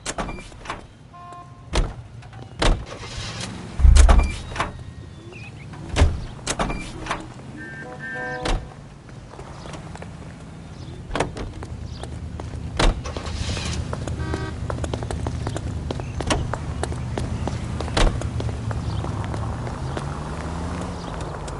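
Car driving in the video game L.A. Noire, a low engine rumble running throughout beneath sharp knocks, clicks and short beeping game effects, with no talk.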